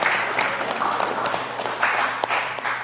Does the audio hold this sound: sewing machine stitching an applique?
no